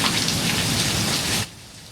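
Heavy rain from an early-morning thunderstorm hisses in a loud, dense wash that cuts off abruptly after about a second and a half, leaving a quieter background.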